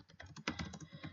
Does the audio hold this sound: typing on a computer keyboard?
yes